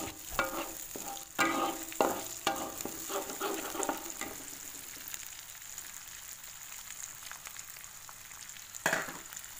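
Ingredients with shrimp paste are stirred in a frying pan, giving a steady sizzling hiss broken by several sharp scraping strokes early on, then a calmer fry and one last scrape near the end, close and without talking.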